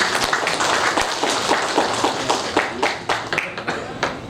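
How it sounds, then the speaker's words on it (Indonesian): Applause from an audience at an Indonesian NU board inauguration reception, a dense steady wash of many hands clapping for about four seconds, with sharper individual claps standing out near and far. "Tepuk tangan."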